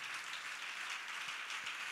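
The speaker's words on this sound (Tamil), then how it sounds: "என்ன விசுவாச கைத்தட்டு" A church congregation claps together in a steady, fairly faint wash of applause, heard from a distance.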